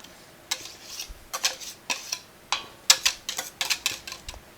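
Crêpe batter with chocolate for soufflé crêpes being mixed gently in a bowl: irregular, clicky taps and clinks of a utensil against the bowl, close and moderately loud, with no voices.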